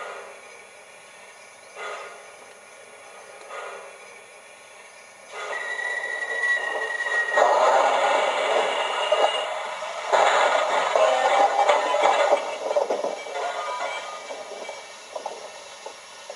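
MTH HO scale BNSF 4-8-4 Daylight GS-4 model steam locomotive running, a steady rolling rumble with hissing chuffs that swell louder midway, with faint whistle-like tones, no talking.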